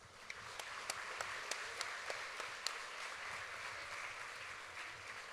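Faint, distant applause from a pageant audience at the 2022 Choctaw Nation Princess Pageant, a steady wash of many hands with a few sharper claps poking through.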